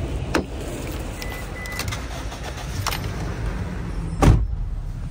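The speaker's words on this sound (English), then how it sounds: "All right, got the car parked." Car being parked, a steady idling engine rumble inside with a few sharp clicks and a louder clunk near the end, like a door or handbrake.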